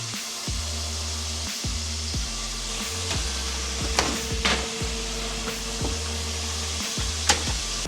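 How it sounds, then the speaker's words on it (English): Salmon fries in a hot pan with a constant hissing sizzle, while rhythmic low thumps and a few sharp clicks or knocks repeat underneath, as if something is being tapped or moved nearby. "While Len is frying our salmon"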